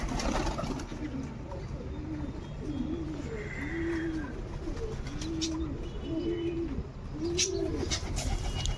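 Pigeons being fed grain coo in a steady, repeated rhythm, soft rolling calls close by over constant outdoor background noise, with a faint chirp now and then.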